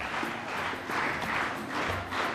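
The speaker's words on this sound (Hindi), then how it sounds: "पहले मैं ताली बजाऊंगा, वैसे आपको ताली बजानी है।" An audience at a school Mother's Day celebration claps together in a set rhythm, loud group bursts of hand claps repeating in a regular pattern.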